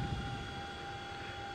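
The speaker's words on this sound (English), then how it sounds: "This is the X-Trident CH-47 Delta Chinook by Boeing" A Boeing CH-47 Delta Chinook helicopter in X-Plane 11 makes a steady, droning rotor and engine hum that holds evenly throughout, with no talking.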